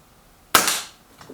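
One sharp, close shot from a BSA R10 Gen2 regulated air rifle, a crisp crack with a brief fading tail and a faint knock just after, in an otherwise quiet setting.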